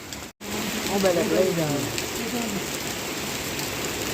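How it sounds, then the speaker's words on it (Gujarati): Continuous rain patters and hisses close by, with a brief dropout near the start and a voice faintly audible under the downpour. "વરસાદ આવી ગયો."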